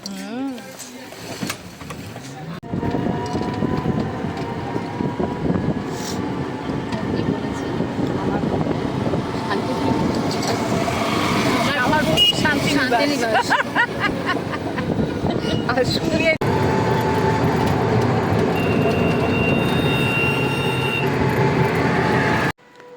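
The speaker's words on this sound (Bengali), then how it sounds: "চলে এসেছি আমরা স্টেশনে।" Busy railway platform ambience at a station near Santiniketan with a low rumbling train and mechanical noise, people talking throughout, a few sharp clanks.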